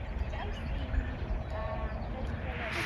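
A goat bleats faintly in a horse farm barn, a few short calls buried in busy rumbling background noise and nearby talk.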